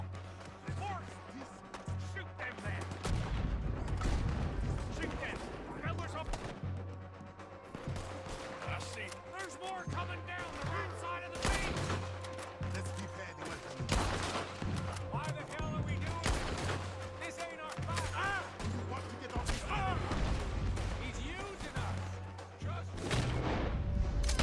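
Gunfire and cannon blasts crash through a video game battle set on Guarma, with dense overlapping shots and booms throughout while voices shout and talk over the fighting.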